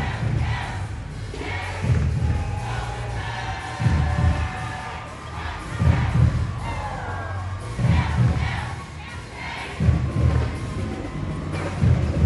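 A crowd cheers and shouts outdoors at the Savannah Veterans Day parade near the cathedral. The roar is loud and close and rises and falls in repeated surges, with deep thumps pulsing underneath.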